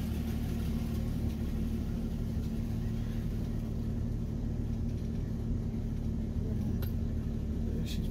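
A Ford Mustang backs out of a home garage, heard as a low, steady engine rumble and idle, close by and fairly quiet, throughout the clip with no talk.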